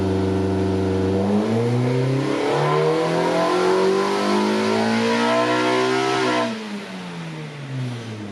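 A K24-swapped Mazda Miata engine pulls hard on a dyno, its tone climbing steadily in a loud, sustained rev in third gear before the throttle lifts and the engine drops back to a lower drone.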